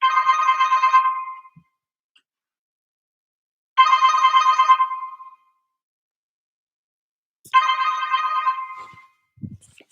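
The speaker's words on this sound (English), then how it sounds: "Someone's calling. Unfortunately, I should have turned off my phone." A mobile phone ringtone chimes three times in steady, evenly spaced bursts of about one and a half seconds, loud and close, with silence between rings and a faint soft bump at the end.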